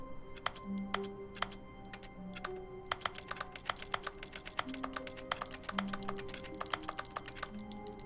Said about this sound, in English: Pressing buttons makes keyboard sounds.